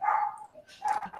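A dog barks a couple of times somewhere nearby, two short yipping bursts with a brief gap between them, heard alone with no talking over it.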